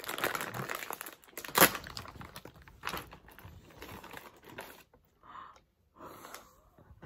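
A Pringles crisp packet is torn open up close, giving crinkly ripping and crumpling in several short bursts with a sharp loud tear near the start, followed by quieter rustling and pauses.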